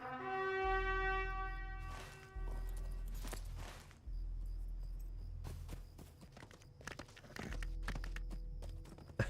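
Horse hooves clip-clop in a video game as a fast horse is ridden toward the southern entrance of Ethring, a steady run of hoofbeats with low thumps, close and moderately loud, with no talking over it.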